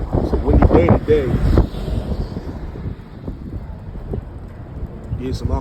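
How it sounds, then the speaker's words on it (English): Gusty wind buffets an outdoor microphone on a windy day, a loud low rumble throughout that swells and eases, with a person talking over it early on. "It's a windy day today."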